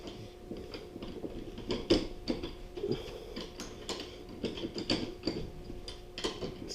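An 8 mm Allen key turns up into a Classic Mini front suspension cone, giving a run of close, faint ratchet-like clicks and metallic creaks in an uneven rhythm, with no talk over it.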